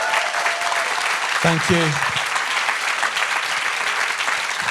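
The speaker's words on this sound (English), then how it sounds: "Let's give these guys a round of applause." Crowd applauding inside an event tent, steady and fairly loud clapping throughout, with someone briefly speaking over it.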